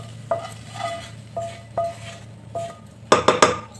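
Chana and cabbage masala is scraped and stirred with a metal spoon into a pressure cooker: a series of sharp clinks at irregular intervals, then a cluster of louder metallic knocks near the end, close by with a low steady hum beneath and no talking.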